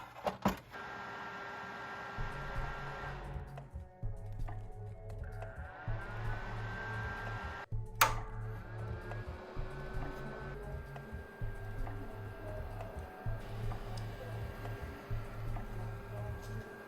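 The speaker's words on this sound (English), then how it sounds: "Now let's test our fan's operation." Small 12-volt replacement fan fitted into a Buddy portable heater, running with a faint whirring hum and a repeating ticking, clicking pulse, quiet and close throughout.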